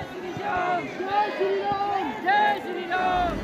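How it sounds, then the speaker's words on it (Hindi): A crowd of pilgrims packs the Khatu Shyam temple in Sikar on Ekadashi, many carrying flags. Nearby voices rise and fall in repeated loud chanting calls over general crowd noise. "बहुत दूर दूर से लोग निशान लेके बाबा श्याम के आए हैं और बहुत भीड़ लगी"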